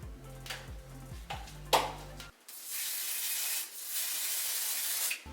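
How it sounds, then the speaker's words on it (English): Bed Head hairspray misted onto hair in a few short hissing bursts, close and fairly quiet, with faint handling rustles before the spraying. "I'm just going back in wherever my hair was still frizzy at and I'm using my bed head hairspray"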